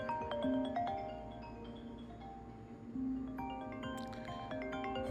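A mobile phone ringtone repeats in a melodic tone pattern, moderately quiet and ringing on without anyone speaking.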